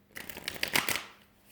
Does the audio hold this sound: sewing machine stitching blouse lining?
no